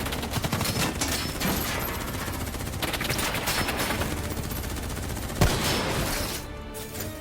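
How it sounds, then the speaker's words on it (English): Dense, sustained automatic gunfire and overlapping shots in a Call of Duty: Black Ops 3 battle, loud and continuous with one sharp crack near the end before it thins out. "Who's shooting?"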